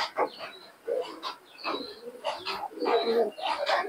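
Teddy pigeons coo close by in repeated soft, throaty bursts, while someone talks over them.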